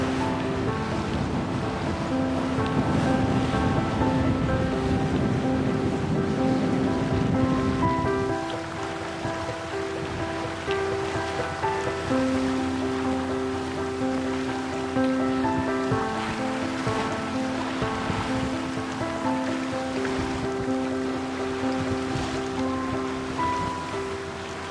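A sailing boat moves through sea waves, with a constant wash of water and wind against the hull and a steady tonal hum, loud and close, with no talking.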